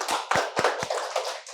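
Applause from an audience, a handful of sharp hand claps in an irregular rhythm over a brief stretch, fairly close and moderately loud, with no talking over it.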